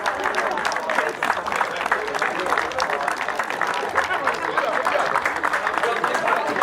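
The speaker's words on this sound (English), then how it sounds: "Let's give them a round of applause." Sustained, dense applause from a crowd clapping for the runners-up, Highgate Albion seconds, at an amateur football challenge cup final; the clapping holds steady and loud throughout.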